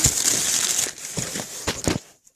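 Parcel packaging crinkles and rustles as it is torn open, a dense crumpling burst followed by a few sharp separate crinkles, close and fairly loud with no talking.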